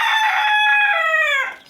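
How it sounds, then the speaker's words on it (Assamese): A hen calls once, loud and close, in a single drawn-out, wavering cry that tails off sharply at the end, with no talking. "চেলকি মুৰ্গী চাক কেনেকৈ মাতি আছে।"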